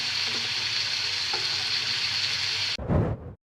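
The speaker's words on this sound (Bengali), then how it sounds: "এখন এভাবে আস্তে আস্তে আলুটা ভাজা ভাজা হয়ে গেলে" Potatoes with ginger paste, cumin and other spices, alongside fish roe, fry and are stirred in a pan with a steady, loud sizzle, ending in a short burst of scraping as the spatula turns them.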